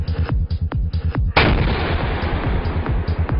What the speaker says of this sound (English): 125mm gun.